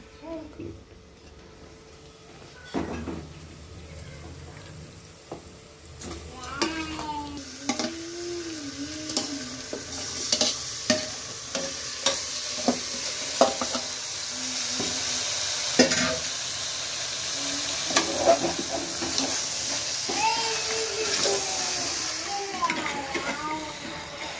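Marinated chicken curry seasoned with turmeric being stirred in a pressure-cooker pot, with soft sizzling and intermittent scraping of the spoon against the metal, while someone talks over it throughout.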